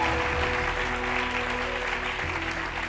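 A church congregation applauds and cheers in praise of God, a dense, steady wash of clapping that fills the whole stretch with a low hum beneath it.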